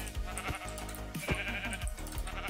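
Sheep in Minecraft bleating several times in short, wavering cries over quiet game background noise, with a faint voice now and then.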